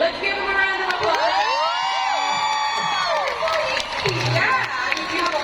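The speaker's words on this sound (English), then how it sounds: "Let's give them a round of applause." At a fan meeting in an arena, a large crowd cheers and screams with high-pitched whoops and shouts over a layer of applause, loud and continuous throughout.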